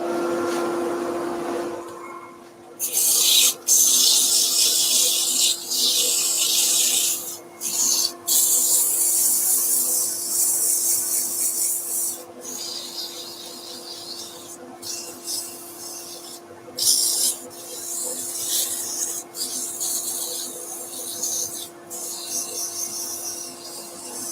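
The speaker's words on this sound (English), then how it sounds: "Right, sanding. So dust extraction's going on. I'll start with 100 grit." Rhythmic rasping strokes of 100 grit sandpaper on wood, close and loud, with brief pauses between passes over a constant dust extraction hum.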